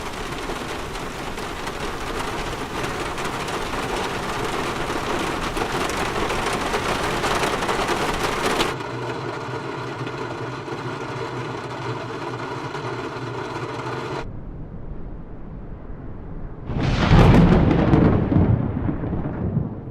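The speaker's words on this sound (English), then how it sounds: "We also have rain, thunder, and even storm for a complete weather experience." Heavy steady rain gives way to a droning hum, then a quieter stretch before a loud rumbling thunderclap near the end, from Microsoft Flight Simulator 2020.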